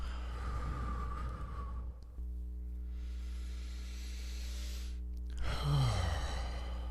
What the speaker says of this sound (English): Okay, another breath.